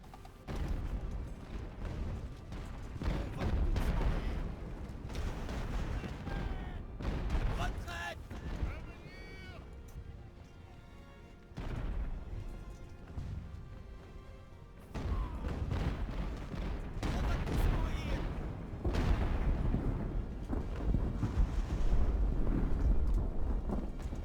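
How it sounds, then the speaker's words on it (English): Mortar fire from an artillery unit hitting a fusilier in a naval-era siege battle at Toulon, heard as deep rumbling booms and crashes that swell and fade over a continuous battlefield roar, with talk over much of it. "now I'm gonna tell the mortar to hit this fusilier"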